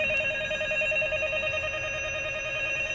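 A hotel room telephone rings with a steady electronic tone, continuous and fairly quiet, with no talking over it.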